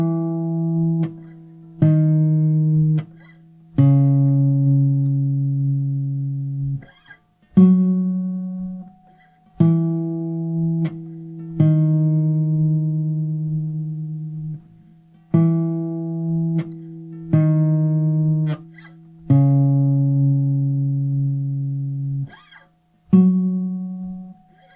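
A fingerpicked acoustic guitar pattern plays slow, clean plucked notes over low bass strings, repeating in evenly spaced groups with ringing sustain and brief pauses between phrases.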